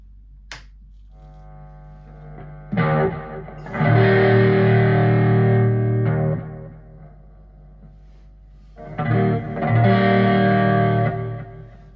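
An electric guitar plays through a Spark cab and a Marshall amp. Two loud, distorted sustained chords ring out and decay, with a quiet gap and a small click before them.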